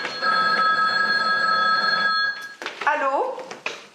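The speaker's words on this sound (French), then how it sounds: "Oh, ce téléphone!" An old-style telephone bell rings loudly and continuously for over two seconds indoors, then stops as a voice breaks in with a sudden exclamation.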